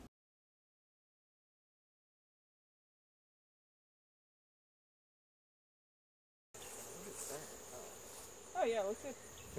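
Honeybees drone steadily at close range around a hive, a busy hum that starts abruptly after a long silence, with one louder swell near the end.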